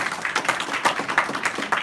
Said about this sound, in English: Let's give him a clap again.